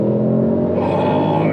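A Mercedes-AMG GT63's engine accelerates on a public road with a loud, mechanical, continuous roar whose pitch climbs partway through, sustained without a break.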